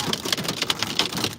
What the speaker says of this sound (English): I did not expect we were going to get this big hail right now, this early.